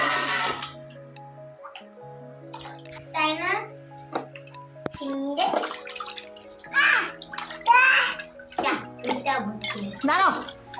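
A young brother and sister bathe indoors during a heavy rainstorm, with intermittent water pouring and splashing while children's voices chatter in between.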